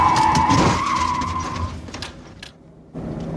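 A car on a driving course skids under hard braking, a loud nearby tire squeal and engine roar that fades and stops abruptly, then a brief low rumble.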